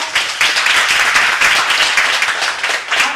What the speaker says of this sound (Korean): 힘찬 박수 한번 부탁드립니다